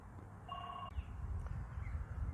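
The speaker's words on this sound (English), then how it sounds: "Now the phone's ringing." A telephone rings once with a short electronic warbling tone indoors, over a low background hum.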